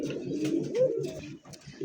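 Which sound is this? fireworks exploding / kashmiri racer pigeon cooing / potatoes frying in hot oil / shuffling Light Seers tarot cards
kashmiri racer pigeon cooing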